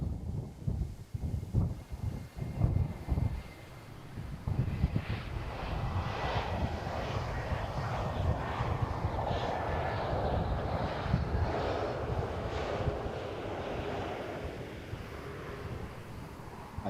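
Airplanes arriving on a windy day at Amsterdam Schiphol airport, a steady distant jet engine roar with gusts of wind buffeting the microphone throughout.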